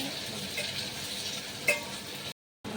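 Onions frying in a pan, a soft continuous sizzle with a quick stirring scrape partway through, then a short gap of silence near the end.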